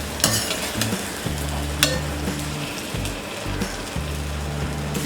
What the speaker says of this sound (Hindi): इसे हम 2 मिनट फ्राई कर देंगे।